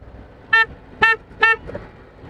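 A car horn honks three times in city traffic, with short, evenly spaced, loud bursts and a quieter fourth blip trailing after.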